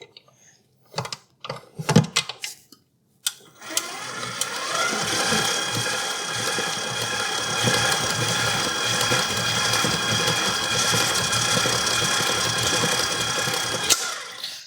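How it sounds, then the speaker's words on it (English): A KitchenAid Proline stand mixer churns a large batch of banana bread batter, a steady motor whir with a faint rhythmic clatter that starts after a few brief knocks and runs continuously for about ten seconds. "So the mixer is performing gloriously."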